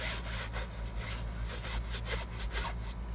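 A handheld brush scrubs fabric car seat upholstery during interior detailing, giving steady rhythmic scratchy strokes, about eight quick passes, close and fairly loud with no talking.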